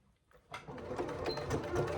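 Sewing machine stitching a handbag panel for the Rossatron bag, starting after a short quiet gap and then running steadily and close for about a second and a half.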